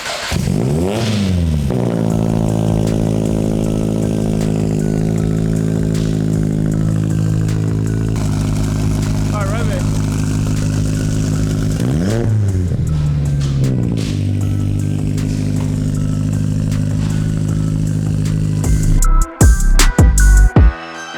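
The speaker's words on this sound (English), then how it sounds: "exhaust is ready. I don't know what Jared put inside the exhaust, but enjoy the sound clips." A car engine idles roughly, then revs repeatedly with a raspy note through a gold titanium exhaust, ending with a few sharp pops and crackles.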